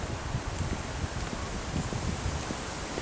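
Oak leaves in autumn woodland at South Holmwood rustle steadily as wind tosses them, a constant close, moderately loud wash with low wind buffeting and no voices.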